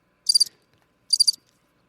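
A crickets chirping sound effect plays two short, bright trilled bursts about a second apart, clear and alone against silence.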